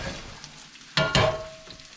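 Sausage crumbles fry in a pan with a low steady sizzle, broken by two brief louder pops or clatters near the middle.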